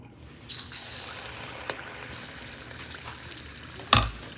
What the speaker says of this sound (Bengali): এবার এক এক করে আমি পিঠে ভেজে নেব